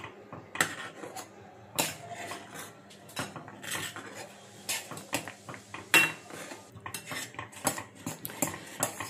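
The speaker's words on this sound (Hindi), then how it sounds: "ही पावडर आपण चांगली मिक्स करून घेऊया, म्हणजे गुठळ्या नसल्या पाहिजे" Makhana powder mixture being stirred briskly to smooth out lumps, a spoon repeatedly clinking and scraping against the bowl in a busy, irregular rhythm, close up with no voices.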